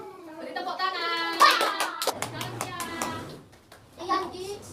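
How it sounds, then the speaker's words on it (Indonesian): Children in a school class clap hands together in a short burst of sharp claps, with someone speaking before and after. "Beri tepuk tangan."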